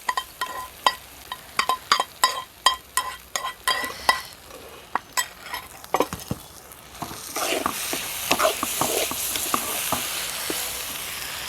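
Cashews and raisins roasted in ghee are stirred into pumpkin halwa in a pan, with a run of sharp spoon taps and scrapes against the metal, then a louder, denser sizzle as the hot ghee hits the sweet.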